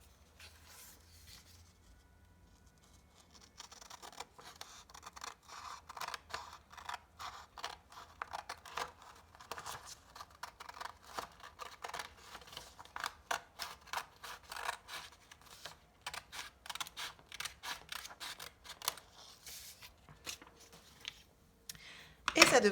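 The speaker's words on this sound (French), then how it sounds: "vous allez prendre votre paire de ciseaux et vous allez couper dans la longueur le long du bord qui a été plié" Scissors cut lengthwise along the folded edge of a sheet of paper, giving a run of crisp, irregular snipping and rustling strokes at close range after a quiet start, with a short louder rustle at the end.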